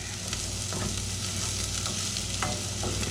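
Celery is stirred into a pot of frying black-eyed peas and greens, giving a steady loud sizzle with scraping stirring strokes and no voices.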